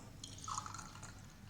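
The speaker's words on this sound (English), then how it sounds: "add a sufficient amount of distilled water" Distilled water trickles briefly and faintly into a clean 100 ml laboratory beaker holding dilute acetic acid, a soft splashing that fades within about a second.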